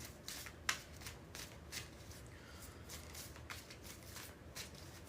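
A deck of cards shuffled by hand, quiet crisp riffling bursts and flicks repeating through the stretch, close and soft with no talk over it.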